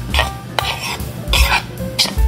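A spoon stirring a breadcrumb, flour and baking powder mixture in a bowl, several loud close scraping strokes in quick bursts with a few light clinks.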